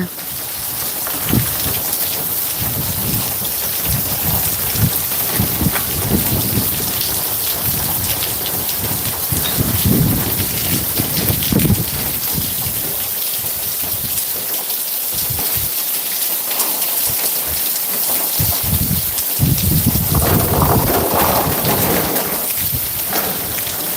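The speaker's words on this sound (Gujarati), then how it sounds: "જોરદાર વરસાદ છે" Heavy rain pours down steadily and loudly throughout, with a dense wash of drops on surfaces and a low rumble, while a voice occasionally talks beneath the downpour.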